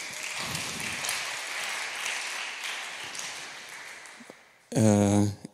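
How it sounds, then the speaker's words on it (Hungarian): Audience applause at a talk fills the room for several seconds, a dense wash of clapping, then a voice briefly speaks near the end. "Ez itt tapsot megérdemel."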